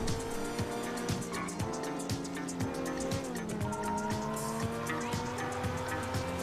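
Car driving in GTA V with tires squealing, engine tone steady and rising under repeated rhythmic skids and squeals throughout, loud and close with no talk.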